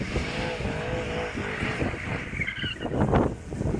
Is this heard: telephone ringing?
no